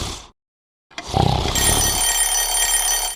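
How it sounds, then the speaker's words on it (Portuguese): An alarm clock bursts into a loud, continuous metallic ringing after a brief silence, holding at steady volume up close for the remaining seconds with no voices. "Talvez eu deixe aqui para você o despertador"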